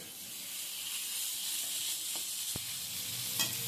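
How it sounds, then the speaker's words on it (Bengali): Potatoes being sautéed in a pan give a steady, soft sizzle with a faint hiss throughout, with an occasional light scrape or tap of a utensil, close and without voices. "এবার ভালো করে আরও একটু কষিয়ে নিচ্ছি"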